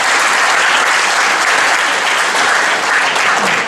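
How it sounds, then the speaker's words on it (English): Sustained loud applause from a university lecture audience, dense steady clapping filling the room for the whole stretch with no break. "Give me a round of applause."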